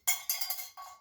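Granite-steel cookware pots clank and ring in a quick series of bright metallic knocks as they are put away, close and fairly quiet.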